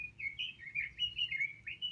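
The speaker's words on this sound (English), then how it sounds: "the birds singing their hearts out" Birds sing in a steady stream of bright chirps and trills, fairly close and clear against a quiet background.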